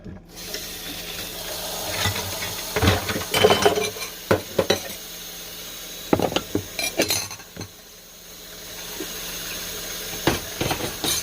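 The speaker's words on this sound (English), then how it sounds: "I'm gonna get out the dishes I can so that I can start adding hot water" Dishes clatter and clink in a sink in quick, irregular bursts, with sharp knocks of plates and cutlery and a soft wash of water between them.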